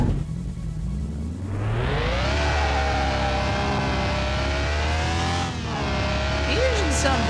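A classic 1960s car in Car Mechanic Simulator 2021 revs hard and holds a loud, steady engine drone with rising and falling pitch, pausing briefly near the end before climbing again, with a short squeal-like sweep at the close.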